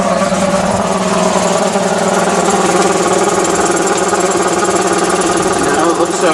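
The engine of a 1977 Ford B-700 bus idles loudly and steadily nearby, a constant throbbing drone with a slight rattle, unbroken for the whole stretch.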